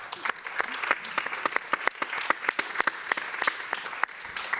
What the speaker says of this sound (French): Je pense qu'on peut applaudir tout le monde.